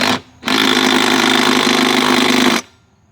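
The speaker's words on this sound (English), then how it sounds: "So our 15/16 socket, and we'll tighten this guy down." Power tool, likely an impact wrench on a 15/16 socket, tightening a lawn mower flywheel nut: a loud, steady mechanical whirring and rattling burst of about two seconds after a brief first pulse, then it cuts out.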